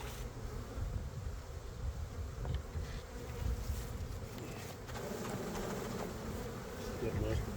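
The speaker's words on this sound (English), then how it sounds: "I'm gonna shake these bees off" A dense, steady buzz of honeybees rises from a swarm colony as frames are shaken over a new hive box, with scattered bumps and knocks under the continuous drone.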